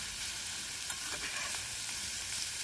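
Grouse meat frying in a hefty amount of olive oil seasoned with garlic salt, a steady dense sizzle with soft crackles throughout, close and fairly loud, no voices.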